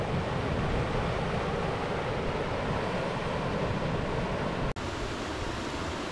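Powerful whitewater surging at high tide in Maces Bay, New Brunswick, a continuous loud roar of breaking, churning water with wind buffeting the microphone and one brief dropout.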